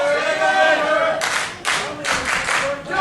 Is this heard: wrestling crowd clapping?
yes